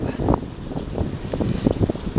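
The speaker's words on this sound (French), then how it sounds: "j'ai le vent dans le dos." Steady gusts of wind buffet the microphone on a Normandy beach, a rough continuous rumble with faint surf-like wash behind it.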